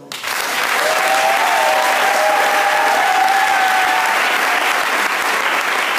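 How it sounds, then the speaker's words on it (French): A church audience in Cameroon applauds its pastors with sustained, dense clapping that holds steady and loud throughout, with faint cheering and voices mixed in. "Acclamons nos pasteurs"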